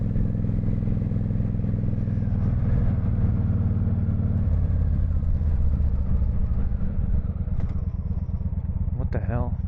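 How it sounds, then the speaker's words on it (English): A Honda VT1100 Shadow Ace motorcycle idles close by with its loud exhaust, a steady low rumbling throb that holds throughout, with a person talking over it. "Oh, this exhaust,"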